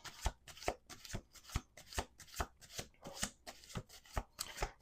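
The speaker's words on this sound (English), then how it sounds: "Last shuffle" Tarot cards are shuffled in a quick, even rhythm of crisp riffling bursts, close and clear with no talking.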